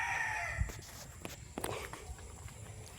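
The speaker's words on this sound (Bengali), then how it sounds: "জঙ্গলে মোরগ ডাকছে" Rooster crowing in a forest, a drawn-out call at the start followed by footsteps crunching nearby on the ground, fairly faint and outdoors.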